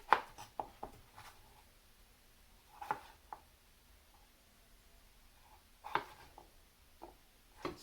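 A knife chopping potatoes into half-inch wedges on a cutting board, with soft, irregular taps and scrapes, quiet and close, separated by short pauses.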